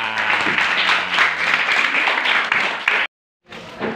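Schoolchildren and teachers applaud at a primary school reading-corner event, a lively dense burst of clapping that runs for about three seconds, cuts out briefly, then resumes.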